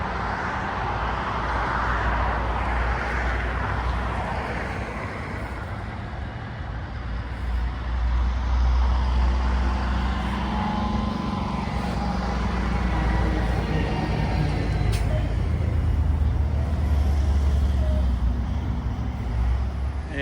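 A rat rod car idles at an autumn rod run, its engine a steady low rumble that holds close and loud for the whole stretch, with faint crowd and traffic noise in the background.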